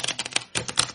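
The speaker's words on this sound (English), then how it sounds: "I really suck at that type of shuffling." Cards from a Hocus Pocus tarot deck being shuffled by hand: a quick series of crisp, papery riffling bursts, close and fairly loud, with short gaps between them and no talking.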